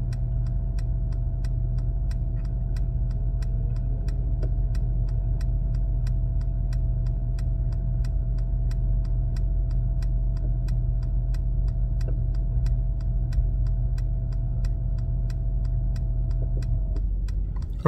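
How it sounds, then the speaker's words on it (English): The hydraulic bed of a flatbed tow truck raises a Mercedes-Benz S-Class, giving a steady, even motor hum with regular ticking clicks throughout, cutting off just before the end. "I don't know if you can hear the sound, but the car is actually rising."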